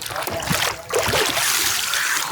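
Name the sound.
splash of someone dipping into Bakreshwar hot spring water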